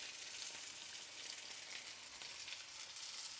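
Fried onions tipped into browning chicken for a desi-style chicken fry crackle and sizzle in a hot pan, a steady, close, bright hiss that swells slightly at the end, with no talking.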